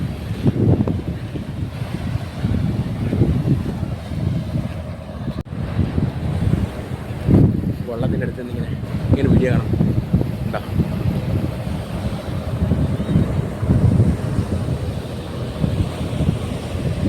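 Sea waves wash in at Azhikkal beach, a continuous low rumbling surge heavily mixed with microphone wind noise, steady and loud throughout with no voices.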